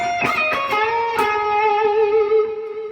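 A distorted electric guitar plays a phrase: a quick run of picked notes that settles into a long, sustained, singing note. It is heard alone, loud and close.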